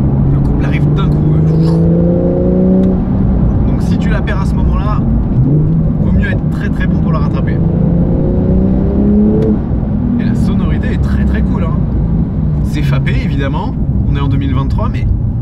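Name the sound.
Porsche 911 Sport Classic turbo engine revving, fourth gear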